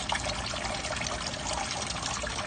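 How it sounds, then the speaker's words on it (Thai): Water circulates through a hydroponic vegetable growing system with a steady, close trickling and splashing flow that continues unbroken, with no talking. "น้ำไปจะไหลออกมาวนไปครับ น้ำจะวนไปเรื่อย"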